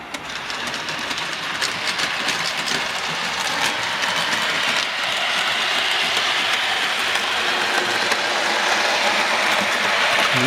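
A Lima model train pulling mixed parcel wagons runs on a loft layout with a continuous close whirring motor and rattling wheels, steady throughout.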